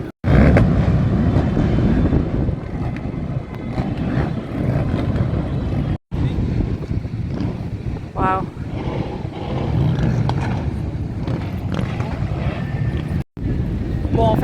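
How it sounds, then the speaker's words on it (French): Motorcycles pass through a town square in Albufeira, their engines droning and roaring steadily at a distance under gusty wind noise, while a person talks over them. "c'était des motos"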